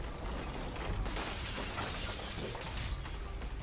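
Building collapsing in the Call of Duty Black Ops 3 mission Dans les ténèbres, a dense, loud wash of shattering debris, crunching and rumbling that runs without a break from start to finish, with no talk over it.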